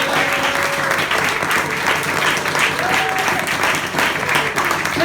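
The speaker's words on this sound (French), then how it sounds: "rigolez à mes blagues et applaudissez-moi bien fort parce que j'ai fini" A stand-up comedy audience breaks into steady, loud applause at the end of a set, dense clapping holding evenly throughout with some voices mixed in.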